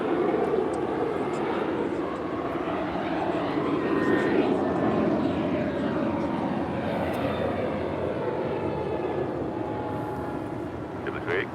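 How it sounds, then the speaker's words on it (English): Airbus A321neo jet rolling down runway 25 right at LAX, a steady broad engine roar heard from a distance that holds through the whole stretch, with voices talking underneath. "A321neo rolling down 25 right"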